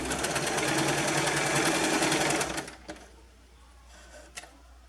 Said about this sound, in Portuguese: E passa a costura rentezinha aqui.